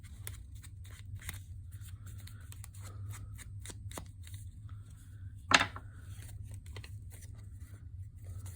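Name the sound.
scissors trimming paper for an envelope pocket folder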